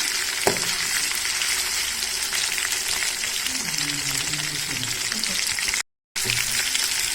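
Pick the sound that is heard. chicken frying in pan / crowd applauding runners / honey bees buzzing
chicken frying in pan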